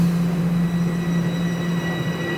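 Subway train pulling into a Toronto station platform during morning rush hour, heard as a steady rumbling drone with a sustained low hum and a faint high whine, continuous and fairly loud throughout.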